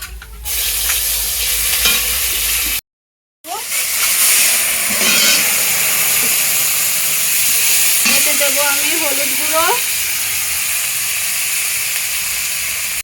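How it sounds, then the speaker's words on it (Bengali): Cumin and chili paste sizzles in hot oil for a Bengali hilsa fish curry, a loud steady frying hiss with stirring scrapes, broken by a brief silence and a few faint squeaks near the end. "এবার জিরে লঙ্কা বাটাটা আমি তেলের ওপরে দেবো"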